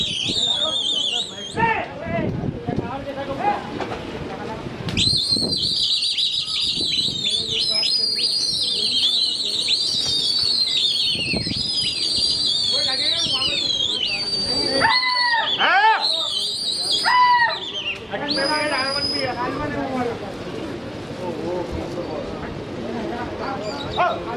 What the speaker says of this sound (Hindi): तो व्यूअर्स इनके फिर से कबूतर उड़ेंगे